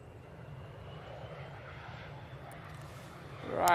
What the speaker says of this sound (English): EasyJet A320 heading off to Belfast